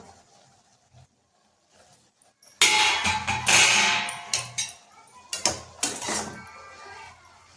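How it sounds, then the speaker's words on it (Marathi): A metal lid clatters onto a pan of fenugreek bhaji, giving a loud clang and scrape followed by a few lighter rattling knocks of cookware, close up in a quiet kitchen. "आता आपण झाकण ठेवायचं 1 मिनिट."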